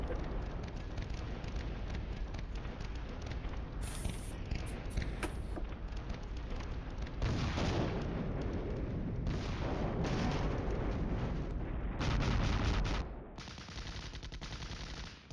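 Artillery fire from 105 mm and 155 mm guns in the Flashpoint Campaigns Cold War wargame, a dense continuous rumble of booms and gunfire lasting throughout, swelling louder in the second half.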